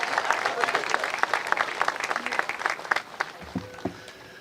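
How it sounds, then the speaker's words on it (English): An audience claps at an outdoor statue ceremony, a dense burst of applause that tapers off after about three seconds, with a voice briefly heard near the end. "Ladies and gentlemen, clap it up for Mr. Jeremiah Donati as he comes forward."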